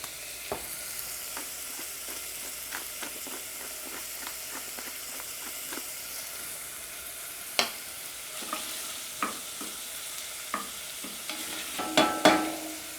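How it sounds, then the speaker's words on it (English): Onions and garlic with salt and pepper sauteing in hot oil for a butternut squash soup, giving a steady soft sizzle with light stirring clicks and a few louder scrapes toward the end. "Once your oil's up to temperature, you can add your onions into it. You can add your garlic to it."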